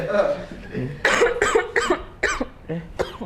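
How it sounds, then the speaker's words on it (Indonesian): Several harsh coughs in a rapid cluster, close and loud, with a voice-like rasp between them. "Batuk"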